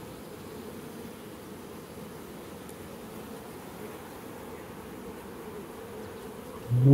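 A honey bee mating swarm produces a dense, continuous buzz, close and steady for the whole stretch, rising into a brief louder bump at the very end.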